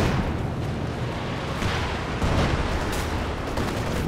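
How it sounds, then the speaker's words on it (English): A Katyusha rocket artillery barrage in Company of Heroes 2 rumbles as a dense, continuous wash of distant blasts and booms, steady and fairly loud without clear gaps. "and some nasty Katyusha rockets"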